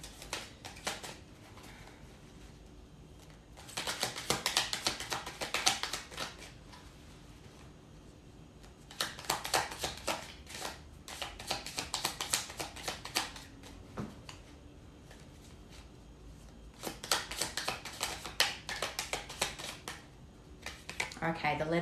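A deck of cards is shuffled in several separate crisp, rapid bursts, spaced a few seconds apart with quieter pauses between them.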